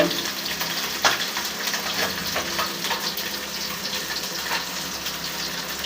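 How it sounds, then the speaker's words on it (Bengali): Small fish fry aboard a ship, a dense, loud, steady sizzle of oil with a few sharper crackles, heard close with no one speaking. "জাহাজে ছোট গুঁড়ো মাছ আনা হয়েছে ভাজি করা হচ্ছে"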